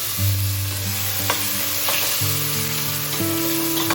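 Tomatoes frying in hot oil with panch phoron and dried chilli, a close, steady sizzle with occasional stirring scrapes, while low tonal hum lines run beneath.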